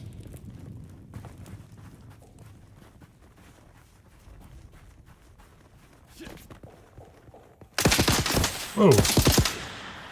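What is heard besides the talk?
gunfire shooting at the player in video game Dune Awakening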